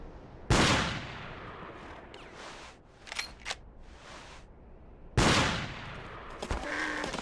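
Two sharp, loud rifle shots in Cabela's Big Game Hunter 2005 ring out several seconds apart, each trailing off in a long echo, with faint clicks between them.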